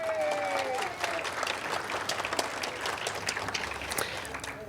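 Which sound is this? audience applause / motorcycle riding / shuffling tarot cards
audience applause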